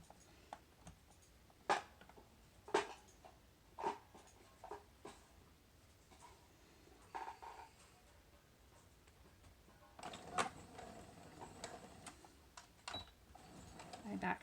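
A home sewing machine stitching a cloth face mask, the stitching heard in short bursts with clicks and pauses between, faint and close, with a voice talking over it.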